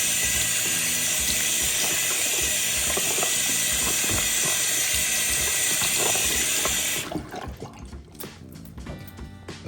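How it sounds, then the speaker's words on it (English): Tap water runs steadily in a loud, hissing stream as shampoo is rinsed off a coin brush, then cuts off near the end, leaving faint drips and handling noises. "We're gonna rinse it off."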